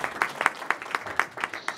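A small audience at a ventriloquist show claps in a short, even run of distinct, regularly spaced claps, close and fairly loud, with no talking.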